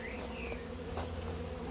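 Honeybees buzzing steadily around a hive frame of capped brood, a dense continuous drone close by with no talking.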